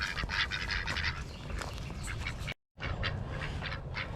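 Several ducks quack in a busy, overlapping chorus nearby in a garden, with a brief dropout partway through before the quacking resumes.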